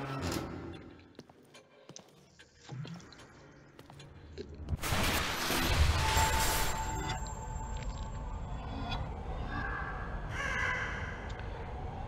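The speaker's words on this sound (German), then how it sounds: "Eine Rabe." A raven caws in The Evil Within horror game, a few harsh calls rising over a dark ambient game soundscape with a swelling noisy burst in the middle, no talk.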